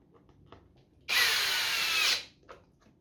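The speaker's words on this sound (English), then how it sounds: "Let the drill stop." A power drill running near a pressure washer switch box install, a loud high whine lasting about a second before spinning down, with quiet surroundings either side.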